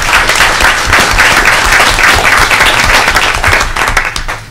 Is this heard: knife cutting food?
no